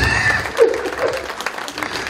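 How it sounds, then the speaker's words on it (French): Applause for a couple at a Congolese-style celebration in Belgium, a broad wash of clapping from a crowd, with voices and music faintly mixed in underneath. "On applaudit pour le couple."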